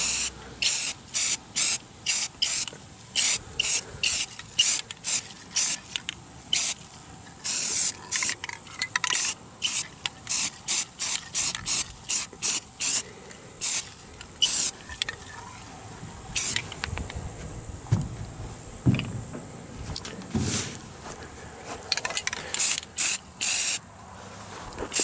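Short, repeated bursts of aerosol spray paint hiss close by as camouflage is sprayed onto an AR-15 rifle, coming in quick rhythmic blasts with brief pauses, then fewer and more spaced out toward the end.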